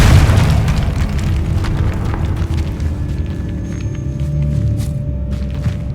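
A Confringo fire spell from the video game Hogwarts Legacy bursts in a loud, sustained booming explosion, with a deep rumble rolling on for several seconds.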